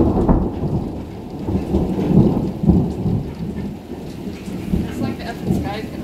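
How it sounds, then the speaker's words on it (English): Rolling thunder rumbles through a storm with steady rain, loud, low and sustained in repeated swells, lightning close by, with a faint voice underneath. "it's like the thunder and the lightning are at the same time"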